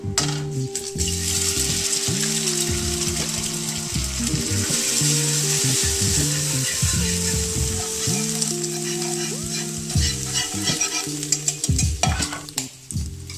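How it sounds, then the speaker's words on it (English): Scrambled egg and pre-cooked rice stir-frying in a pan, giving a steady close sizzle throughout, with scraping and clinking from stirring and a tonal hum underneath. "I've already pre-cooked some rice. I'm just going to add it. You just kind of fry it there for a second."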